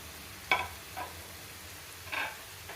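Sweet potato murukku fries in hot oil, a faint low sizzle broken by a few brief louder crackling bursts, close by with no talking.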